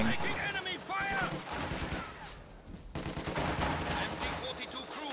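Enemy gunfire in a World War II real-time strategy match rattles in repeated machine-gun bursts and scattered shots, fairly loud and continuous, under an excited commentator's talk.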